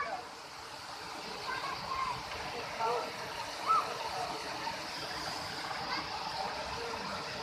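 Kuang Si waterfall in Laos tumbling down in tiers, a steady soft rush of falling water, faint and distant, with a small splash midway.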